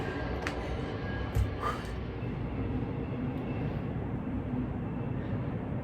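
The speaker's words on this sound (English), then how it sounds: "we will wait until the train passes by" A train rumbles past outdoors as a steady, broad, droning roar that lasts throughout, with a brief thump partway through.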